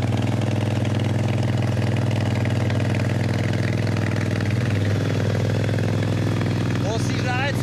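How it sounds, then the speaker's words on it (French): A parked motorcycle left running in Serbia idles with a steady, loud, even engine throb for the whole stretch, with a brief rattle and faint voices near the end. "il a une moto qui fait du bruit"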